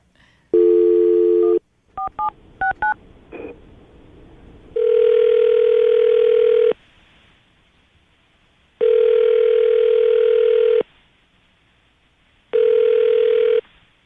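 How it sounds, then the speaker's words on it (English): A telephone call is placed: a short burst of dial and keypad tones, then a steady ringback tone that repeats in long, evenly spaced rings with quiet gaps between them. "are you ready to give him a call? See if he answers the phone?"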